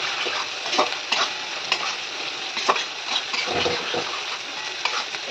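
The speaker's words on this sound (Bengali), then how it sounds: "এইবারে ঢেঁড়সটা দিয়ে দেবো।" Okra frying in hot oil in a pan for a Bengali curry, with a steady sizzle broken by repeated scraping stirs of a spoon close up, with no voices.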